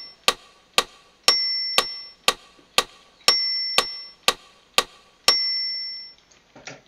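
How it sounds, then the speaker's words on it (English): Metronome beat from a Boss BR-800, Metro 4/4 pattern at 120 BPM: a steady run of crisp clicks, with every fourth beat accented by a higher, ringing tone, playing alone and up close. "the metronome beat that we're going to start with is this Metro"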